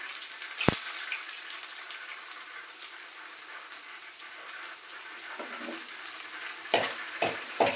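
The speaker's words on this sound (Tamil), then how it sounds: "எண்ணெய் ஊற்றி சீரகம் போட்டு வெங்காயம் போடணும்" Onions and cumin sizzle gently in hot oil for a mushroom curry, a steady soft frying hiss with a sharp clatter near the start and a few stirring knocks toward the end.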